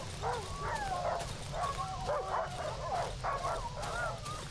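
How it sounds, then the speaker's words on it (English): Dogs bark in the horror survival game Darkwood: repeated yelping barks and whines come in bursts over a low rumbling ambient background, moderately loud and steady throughout. "I'm hearing barking, but I'm not seeing any dogs anymore."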